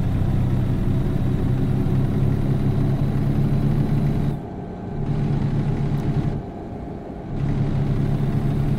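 A heavy truck engine in American Truck Simulator drones loudly at steady revs while hauling through a quarry, dropping briefly twice as the throttle eases before climbing back.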